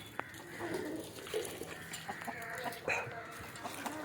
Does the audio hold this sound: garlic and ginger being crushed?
no